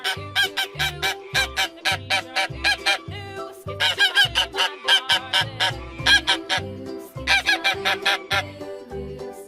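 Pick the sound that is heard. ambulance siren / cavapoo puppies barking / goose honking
goose honking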